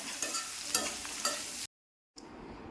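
Plantain stirred with turmeric powder in a pan, a few scraping strokes over a soft sizzle, then a brief silence and a quieter continuation.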